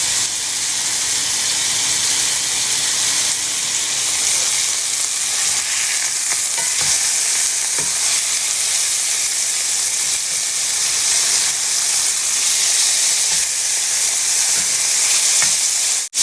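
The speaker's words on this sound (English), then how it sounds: "Just leave them alone and let them fry or cook so that they can get that nice crust on them" Patty melt burgers fry on a hot griddle with a loud, even sizzle and steady hiss, joined by occasional faint scrapes and clicks.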